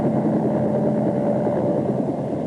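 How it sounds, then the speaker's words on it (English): Steady, dense rotor and engine roar of a helicopter fills the air close by, loud and unbroken throughout, with no voices. "Actually, the rotor noise sounds like this."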